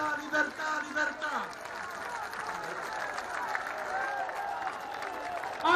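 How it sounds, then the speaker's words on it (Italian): A large open-air political rally crowd at Pontida applauds and cheers beneath loud amplified speech, the clapping a steady wash throughout. "Ancora un applauso a Mario Borghezio!"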